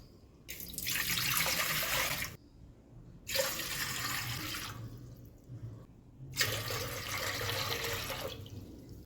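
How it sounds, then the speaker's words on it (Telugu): Water pours in three separate bursts with short pauses between them into a pot, a close, splashing stream like a tap filling a vessel. "రెండు గ్లాసుల పిండికి మూడు గ్లాసుల వాటర్ పోసుకోవాలి"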